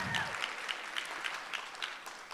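A gala audience at the 2020 Heroes Gala applauds steadily, a dense wash of many hands clapping at a moderate distance, even in level and without voices.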